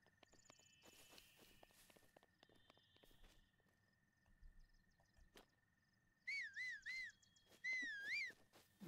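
Link whistles in The Legend of Zelda: Breath of the Wild: two short, clear warbling tunes near the end, each rising and falling, after quiet footsteps and small interface chimes.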